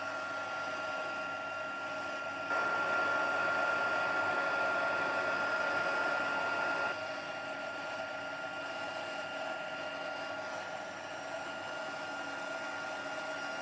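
A warm heat tool on its second setting melts embossing powder on a Christmas card, a steady blowing whir that runs unbroken, louder in the middle stretch, with no talking.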